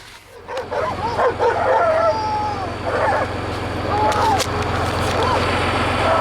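Several dogs bark and yip excitedly, some whimpering, over a low old John Deere tractor engine rumble, with a person talking intermittently.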